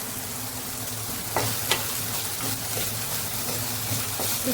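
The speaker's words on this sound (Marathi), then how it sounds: "आता व्यवस्थित मिक्स करून घेऊया" Vermicelli upma with frozen peas sizzles in a pan while a spoon stirs it, giving a steady frying hiss with a few sharp scraping clicks of the spoon against the pan.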